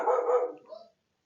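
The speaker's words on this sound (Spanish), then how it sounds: "los perros están ladrando" A single short dog bark or yelp, fairly faint and somewhat distant, ending abruptly into silence.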